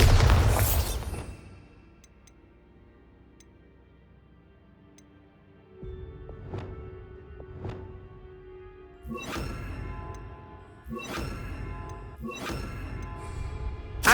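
Bombarda explosion spell blasts in the video game Hogwarts Legacy: a loud burst at the start, then a quiet stretch with thin taps, followed by a cluster of sharp booming hits near the end.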